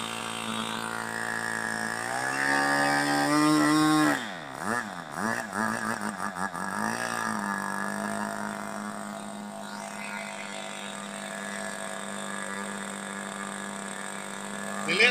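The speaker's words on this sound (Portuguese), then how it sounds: "Só funcionei pra te mostrar, tá? Como fica o motorzinho." An Evolution 46 glow engine on a model airplane, not yet broken in, runs nearby with a steady buzzing drone. Partway through, the pitch dips and wavers as the engine bubbles and sputters, then it settles back into a steady, rich-running hum.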